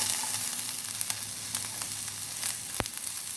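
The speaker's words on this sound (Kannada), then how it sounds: "ಸ್ವಲ್ಪ ಕ್ಯಾಬೇಜ್ ಹಾಕಿ ಎಲ್ಲವನ್ನು ಒಮ್ಮೆ ಫ್ರೈ ಮಾಡ್ಕೊಳ್ಳಿ." Sliced carrot, capsicum and cabbage sizzle steadily in a hot pan for Chinese bhel, with a constant close frying hiss and one quick scrape of a spatula.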